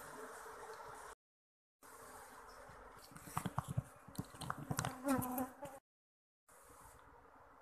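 A dense, close swarm of Asian honey bees (Apis cerana) in a hollow log, disturbed by smoke, buzzing steadily, swelling louder in the middle, with a couple of abrupt silent gaps.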